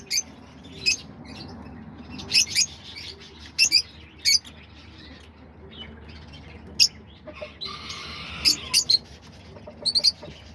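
Lovebirds in an outdoor aviary give sharp, scattered chirps and squawks, several separate bursts over a low, steady background hum.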